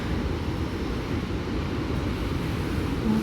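A steady, rushing roar of the Rhine Falls in August fills the whole stretch, constant and moderately loud with no voices or breaks.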